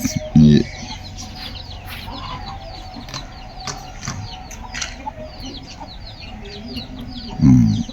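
A hen with chicks in its coop clucks softly in short bursts amid faint chirping and rustling, with a couple of louder clucks near the start and end.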